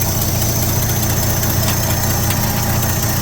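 A 1972 Chevrolet truck engine idles steadily and close by, with a constant low rumble and faint rhythmic knocking, heard alone without talk.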